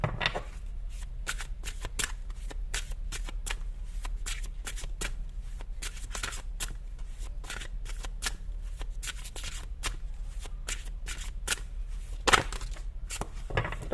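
Tarot cards being handled and shuffled, a long run of crisp riffling flicks and soft slaps close by, steady and busy, with one sharper snap near the end.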